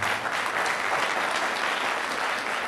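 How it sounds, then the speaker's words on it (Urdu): A packed audience claps loudly and continuously, a dense, even wash of applause with no break. "تو اپنے لیے آپ جتنی بھی تالیاں بجا سکتے ہیں"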